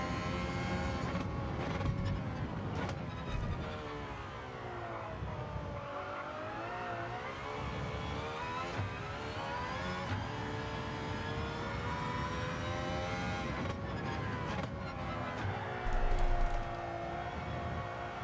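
A race car engine in a video game licence test climbs steadily through second gear. The long, loud harmonic whine rises and falls with the shifts, and a faint tire squeal comes near the end.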